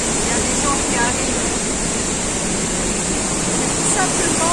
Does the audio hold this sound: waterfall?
yes